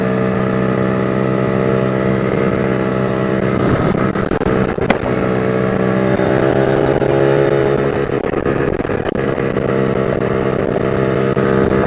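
A Casa Performance motorcycle running in fourth gear, its engine droning loud and steady throughout with a bogged-down, labouring tone and no pauses.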